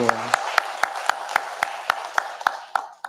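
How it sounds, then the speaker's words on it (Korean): Steady, evenly spaced hand claps, about a dozen in rhythmic succession, ring out in a church sanctuary as the congregation encourages the Mahanaim choir after its performance. "우리 격려의 박수하겠습니다"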